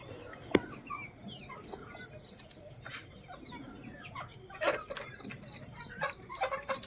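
Chickens on a goat and poultry farm in the evening give scattered soft clucks and calls at moderate distance, with a sharp close peck or knock early on, over a steady high insect-like hum and quiet background.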